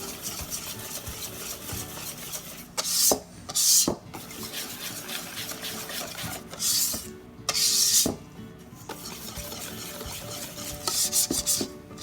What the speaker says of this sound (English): you just have to keep mixing until there's no more lumps and the mixture is nice and smooth. Keep scraping the sides of the bowl.